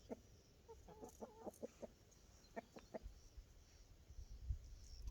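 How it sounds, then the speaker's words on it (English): Several chickens cluck close by in a farmyard, short bursts of clucks with quiet gaps between them over low outdoor background noise. "We have some chickens coming and saying hi."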